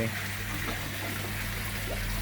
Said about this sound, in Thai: ของเราเนี่ยดีไซน์ไว้ให้น้ำไหลเข้าบ้านนะครับ